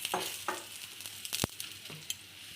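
Lachha paratha frying in oil on a pan, a soft steady sizzle with scattered crackles and a few sharper taps, close and fairly quiet.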